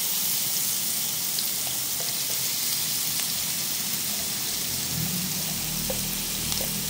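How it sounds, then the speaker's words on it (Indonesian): Chopped spices sizzle in hot oil in a pan for a vegetable dish, a steady crackling hiss that holds even and fairly faint throughout. "Kita tumis yang ini."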